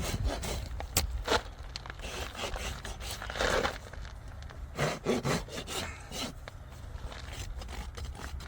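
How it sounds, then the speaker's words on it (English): A farrier rasps a horse's hoof wall, working on a hoof with a wire cut, in uneven scraping strokes: irregular, fairly quiet rasping bursts with short pauses between them and no talking over it. "Gathering the hoof wall up."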